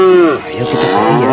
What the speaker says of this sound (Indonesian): di sini ada suara sapi minta tolong